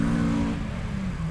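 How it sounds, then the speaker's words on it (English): A Subaru STI launching off an autocross start line: a loud, steady engine drone that holds near constant and then sags slightly in pitch, with no voices. "Kevin Williams now just left the line in his STI."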